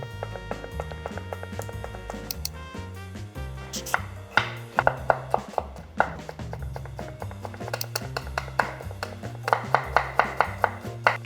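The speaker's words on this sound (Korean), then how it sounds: "이렇게 돌돌 말아서 칼로 아주 가늘게" A knife slices soaked, rolled rock tripe mushroom very finely on a board for white pomegranate kimchi, making quick runs of light rhythmic taps under background music.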